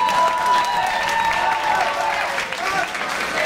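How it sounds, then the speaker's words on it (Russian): An audience at a Russian summer school event applauds, sustained dense clapping that fills the whole stretch at an even level, with a voice faintly audible beneath it. "Аплодисменты еще раз к следующим парам."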